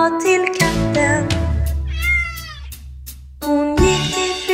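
Meowing cat sounds woven into a Swedish children's number song, repeated over the bouncy musical backing with no speech.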